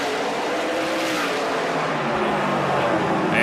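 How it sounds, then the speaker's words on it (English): NASCAR Canadian Tire Series stock cars racing at the Grand Prix de Trois-Rivieres street circuit in Quebec, a loud continuous engine roar with shifting pitch as cars brake and accelerate through the turn. "Big-time stock car racing here"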